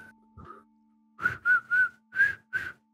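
Someone whistles a short series of clear, high notes, about six quick toots in a loose rhythm, close and alone with a faint steady hum behind.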